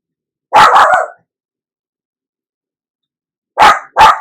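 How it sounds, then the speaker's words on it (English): A dog barks loudly up close in two quick bursts, a pair of sharp barks, then a pause, then two more. "my dog is just on the barking match today. Like she just keeps barking."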